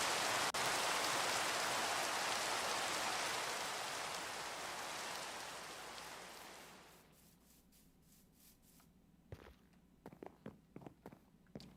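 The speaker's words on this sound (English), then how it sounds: "God Rain is loud." Heavy rain pours down as a loud, steady hiss that gradually fades out, followed by a few scattered sharp knocks and taps near the end.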